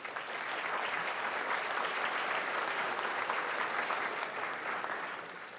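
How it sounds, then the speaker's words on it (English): An audience at a civic forum event gives a warm round of applause, steady dense clapping from many hands that holds evenly for several seconds and tapers slightly at the end. "Please join me in a warm round of applause for all of them"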